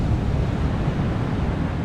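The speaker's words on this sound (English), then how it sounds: "But the waves down here" Sea waves breaking on the shore at night at Ogmore-by-Sea on the Bristol Channel, a steady low rumbling wash of surf mixed with wind buffeting the microphone, no voices.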